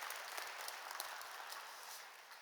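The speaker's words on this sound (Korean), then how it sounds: "여러분 크게 박수로 환영하시지요" A church congregation applauds to welcome a guest evangelist, a steady, dense wash of many hands clapping that sounds soft and distant throughout.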